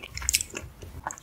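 Someone bites and chews tteokbokki rice cakes in a rosé sauce close to the microphone, giving a few soft, wet, squishy bites and chews with a brief crunchy accent.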